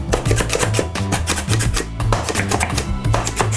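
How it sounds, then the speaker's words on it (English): A Slap Chop chopper repeatedly strikes a large green onion on a kitchen counter, giving a fast, steady run of loud close plunging chops and clacks with no talk. "So if you slap chopping and you're moving it around, you get a better mince."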